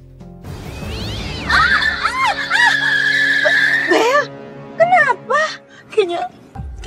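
Tires squeal in a long, loud skid, followed by a few short yowling cries resembling a cat, with a voice speaking briefly.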